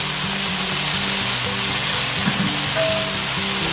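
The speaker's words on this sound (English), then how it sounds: "So we're gonna put some bacon on here." Bacon strips sizzling and crackling on a hot Drew Barrymore extra-large electric griddle, a steady close hiss with fine popping throughout and a low hum underneath.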